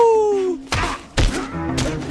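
Heavy thudding punches land in a fistfight in the video game LA Noire, two or three close, solid thumps following a falling vocal groan.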